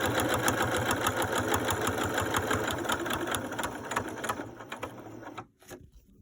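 Sewing machine stitching the side edges of a fabric face mask, a loud steady rapid mechanical whir with fast rhythmic needle pulses that runs continuously, then slows and stops near the end.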